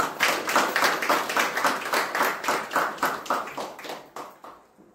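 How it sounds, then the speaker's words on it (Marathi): An assembled audience at a college event claps in unison to wish someone a happy birthday, a loud, rhythmic series of about twenty evenly spaced claps that gradually weakens and fades out near the end. "आपण सर्वजण खूप मोठी टाळ्या वाजवून त्यांना उदंड आयुष्याच्या पर्यंत शुभेच्छा देतो"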